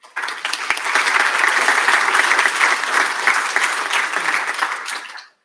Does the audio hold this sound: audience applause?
yes